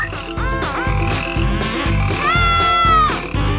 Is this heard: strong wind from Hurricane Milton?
no